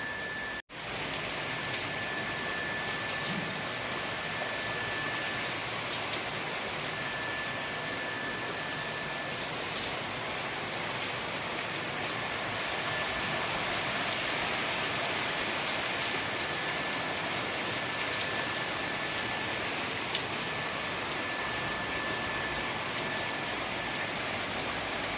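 Heavy rain pours on a house with a broken asbestos roof that leaks water inside, a dense, steady roar of drops that stays loud and unbroken for the whole stretch, with no voices.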